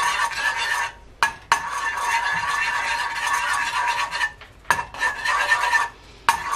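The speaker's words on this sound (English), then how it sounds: "I like to go and break up the yolks and just mix it in a little" Utensil scraping and stirring in a pan as egg yolks are broken up and mixed on medium heat for scrambled eggs, a steady close scratchy churn broken by a few short pauses.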